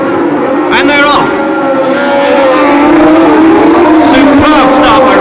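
A pack of Formula One cars at the 1976 Long Beach Grand Prix roars loudly off the starting grid, engines revving and screaming past in overlapping waves, with a commentator's voice over the din.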